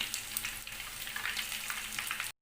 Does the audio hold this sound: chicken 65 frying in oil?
yes